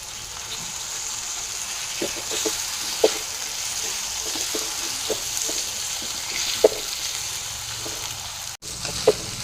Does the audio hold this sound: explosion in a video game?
no